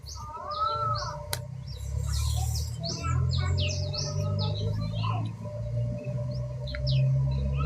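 Caged songbirds chirp and tweet in front of a house, with many overlapping short calls over a steady low background rumble for several seconds, no talk.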